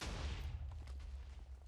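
A TNT cannon blowing up in Minecraft: a low, rumbling explosion that rolls on continuously at modest volume without a clear single crack.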